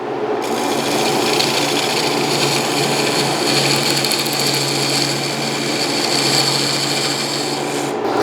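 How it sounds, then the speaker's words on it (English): A turning tool cuts into the wood of a segmented bowl spinning on a lathe, a loud continuous rasping scrape over the motor's low hum, close and unbroken throughout. "I'm really not trying to force the tool through the wood. I'm just applying pressure and pushing it along."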